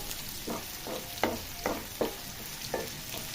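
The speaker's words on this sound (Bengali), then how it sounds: "তেলের মধ্যে পেঁয়াজ, রসুন, শুকনো মরিচ এবং চিকন জিরা এগুলো ভালোভাবে ভেজে" Onion, garlic, dried chili and cumin fry in hot oil for lentil dal, with a steady sizzle and about six stirring scrapes at a regular pace, close and moderately loud, without talk.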